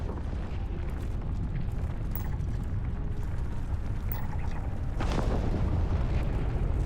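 Giant explosions in the space game Starfield roll as a continuous loud low rumble, with a sharper burst swelling in partway through and no talk over it.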